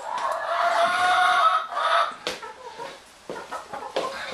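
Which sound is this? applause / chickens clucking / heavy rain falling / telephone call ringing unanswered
chickens clucking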